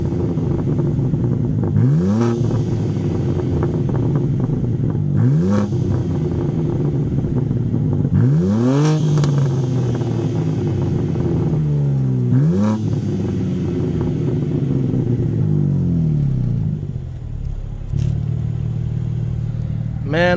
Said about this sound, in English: I love the S58 sound. It would sound even better with an exhaust, but for stock, that sounds fantastic.